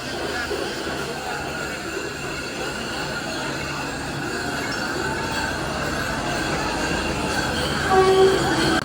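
Trains rumble continuously in the large, echoing, crowded Howrah railway station, with a constant mechanical drone and faint metallic squeals rising near the end.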